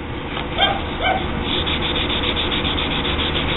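A knife handle is sanded by hand with a steady, close rasping rub and a couple of brief knocks early on.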